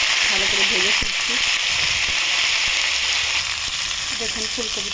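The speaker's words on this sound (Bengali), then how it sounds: "ফুলকপিটা আলুর সাথে এরকম করে ভেজে নেব" Potatoes and cauliflower frying in a pan give a steady, close sizzle throughout, with a voice talking over it.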